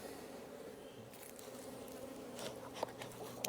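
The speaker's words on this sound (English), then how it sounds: "Man, look how calm those bees are." Honeybees hum around an open hive box during spring beekeeping work, a soft steady drone with faint ticks and rustles from handling the frames, no voices.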